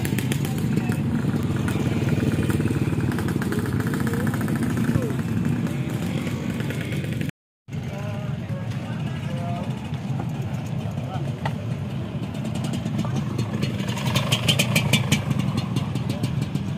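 Motorcycles ride together on a Terengganu bridge outing, a steady, loud engine drone running throughout with a brief cut midway, while people talk over it.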